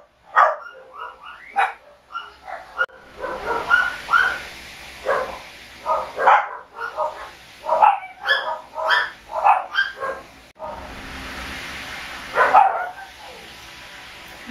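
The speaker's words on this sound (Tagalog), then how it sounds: "madami kasing aso dito sa amin." Several neighbourhood dogs, including shih tzus, bark repeatedly in quick irregular bursts, fairly close and loud, with yips overlapping and brief pauses between volleys.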